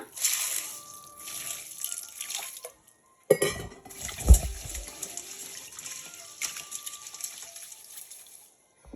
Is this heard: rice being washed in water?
yes